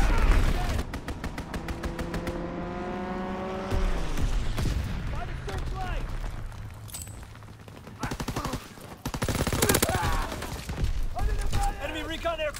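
Dense gunfire and explosions from a fire strike in the video game Call of Duty: WWII, loud rapid bursts and booms throughout, with in-game voices calling out over the barrage.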